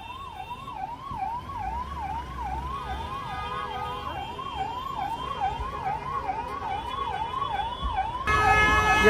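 An ambulance siren stuck in a traffic jam at a bus stand in Kishtwar wails in a rapid rising-and-falling pattern, loud and close, over the rumble of idling traffic, growing louder near the end.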